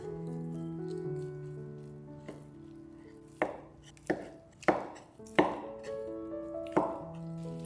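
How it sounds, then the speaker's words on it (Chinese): A knife dices dried tofu and tofu sheets on a cutting board, about six sharp, close chops spaced roughly evenly in the second half, preceded by soft background music. "豆干切成丁状，先把百叶豆腐切成丁状。"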